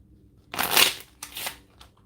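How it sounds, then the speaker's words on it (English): Two quick riffle shuffles of a deck of tarot-style reading cards, crisp and close, then a brief softer flutter at the end. "One more shuffle."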